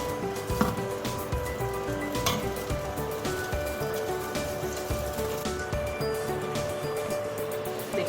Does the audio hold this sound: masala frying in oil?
yes